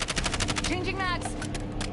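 Rapid automatic gunfire in the video game Call of Duty: Warzone, a quick run of close, evenly spaced shots firing in bursts, with a voice talking over part of it.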